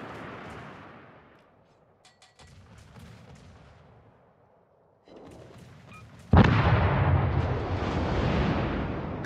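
Naval gunfire booms from warship guns in a video game battle, with a few sharp reports and rumbling decays, ending in a sudden loud sustained barrage of heavy fire.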